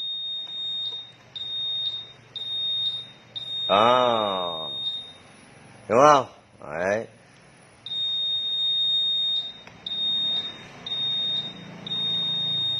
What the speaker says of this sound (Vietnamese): Thì lúc này anh em phải nghe được 4 tiếng bíp.